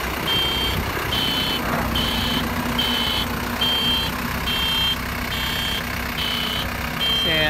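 A Toyota 5FD25 diesel forklift rated at 2.5 tonnes idles with a steady low engine rumble while its reversing alarm beeps loudly in an even, regular series of about ten pulses close by.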